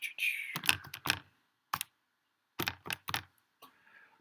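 A series of sharp button taps on a handheld calculator, in uneven bursts of quick clicks separated by short pauses, close and clear with no talking.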